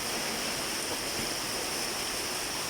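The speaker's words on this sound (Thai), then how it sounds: "พาพี่พี่น้องมาดูฝนตกไอ้อย่างแรงเลยตอนนี้" Heavy rain falling hard outdoors with water running strongly along a gutter channel, a steady, dense hiss of downpour and flow close by with no talking.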